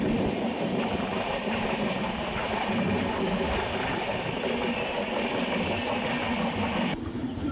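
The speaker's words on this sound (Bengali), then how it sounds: "দেখি হাওড়া জম্মু তাওয়া এক্সপ্রেস তার হাওড়ার দিকে যাচ্ছে। তো পাশ থেকে যাচ্ছে" The Howrah Jammu Tawi Express passes close by with a loud continuous rumble and rattle of rolling wagons and faint clickety-clack from the rails, sustained throughout.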